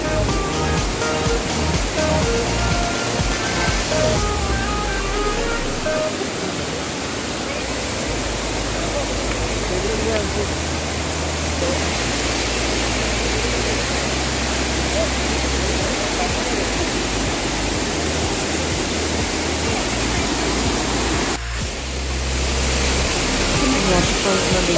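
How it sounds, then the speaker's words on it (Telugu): Kothapalli waterfalls near Lambasingi roar as a loud, dense, continuous rush of cascading water, filling the scene without break. "వాటర్ ఫాల్స్ అయితే చాలా బ్యూటిఫుల్గా ఉన్నాయండి."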